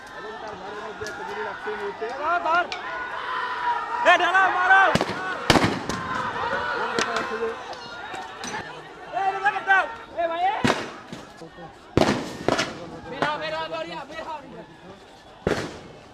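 Sharp gunshot-like bangs crack out sporadically during a street protest, several loud isolated blasts over excited shouting and talking voices.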